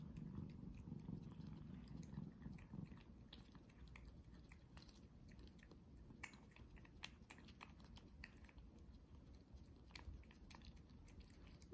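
A cat licks and eats a churu treat, giving soft, close, continuous wet chewing and licking sounds with a faint purr underneath and small sticky clicks throughout, with no talking.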